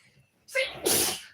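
A single close sneeze, a quick inhale followed by a sharp, breathy burst.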